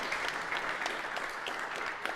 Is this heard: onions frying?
no